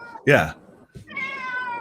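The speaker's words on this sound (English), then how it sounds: "Oh, my cat. Poor kitty." A house cat meows twice nearby, a short sharp cry followed by a longer drawn-out wail, with a room's quiet background.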